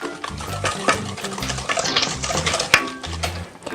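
Eggs are mixed into butterscotch brookie batter in a bowl, with close scraping and clinking utensil strokes in short repeated bursts.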